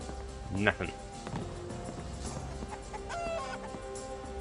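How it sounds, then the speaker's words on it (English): Chickens cluck in short bursts nearby, mixed with a voice and other farmyard sounds. "Chickens!"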